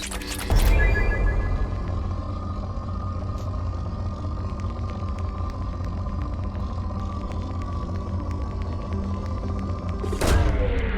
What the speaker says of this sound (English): Launching probe.